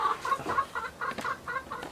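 Hens cluck steadily in a small henhouse built from pallets, a run of soft, repeated clucks at close range with no talking.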